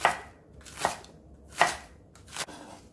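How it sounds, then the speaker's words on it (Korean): A knife chops a stalk of green onion (daepa) on a cutting board, four distinct close, sharp thuds spaced unevenly apart with quiet pauses between them. "대파 한 뿌리 어서 썰게 해줄게요."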